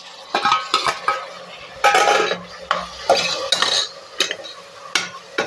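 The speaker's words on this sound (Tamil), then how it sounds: "இப்போ என்ன பண்ண போகிறோம், எடுத்து வச்சுருக்கிற இந்த தக்காளியை போட்டுருவோம்." Chopped tomatoes going into a pan of fried onions for a meal maker biryani, with clattering spoon scrapes and stirring against the pan in steady bursts, close and fairly loud, with a faint sizzle beneath and no voices.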